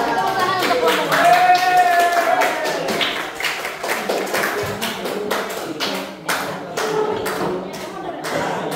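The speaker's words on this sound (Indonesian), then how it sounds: "Tepuk tangan untuk kelompok." A classroom group of students claps for a presenting group, a sharp, uneven patter of close hand claps and taps with voices mixed in throughout.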